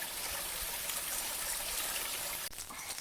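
Small stream of water trickling down a hiking trail in the woods, a steady close babble that runs alone throughout, with a slight shift near the end.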